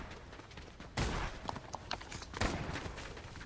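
Video game shootout gunfire pops in quick scattered shots, with two sharper bursts standing out among lighter rapid cracks, all fairly quiet and close, with faint voice in the background.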